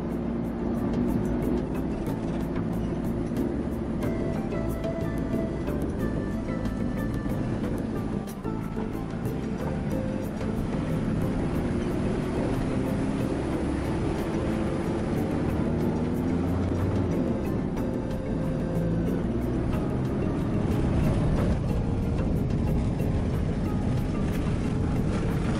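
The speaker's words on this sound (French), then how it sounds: "la piste soit dégradée, avec des tôles ondulées qui secouent sacrément le camion" Truck driving over a degraded, corrugated dirt track in the Australian outback, a steady loud rumbling and rattling drone that continues without a break.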